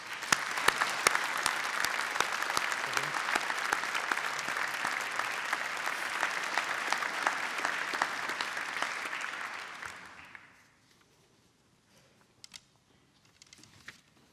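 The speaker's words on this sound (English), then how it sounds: "can I ask all of you to give them a big round of applause" Sustained audience applause at a University of Manchester graduation ceremony, a dense, even roar of many hands for about ten seconds before fading out into near silence with a few faint knocks.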